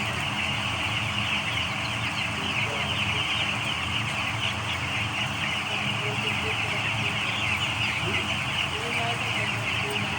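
Chicks on a poultry farm, a dense continuous chorus of peeping and clucking filling the space, steady and loud throughout, with someone talking faintly underneath.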